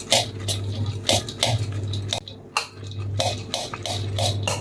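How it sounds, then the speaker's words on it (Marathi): Wet bhel, puffed rice with onion, tomato and sweet-sour chutney, is stirred in a pot, giving repeated soft scraping and clinking strokes of a spoon in a steady rhythm, up close over a low background hum. "आपल्याला ही भेळ व्यवस्थित हलवून घ्यायची आहे"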